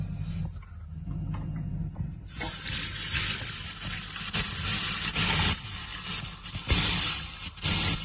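Water rushes steadily into a toilet tank after a brief quiet start, once the water supply is turned back on following a leak repair, a continuous close hiss and gurgle that keeps going without pause.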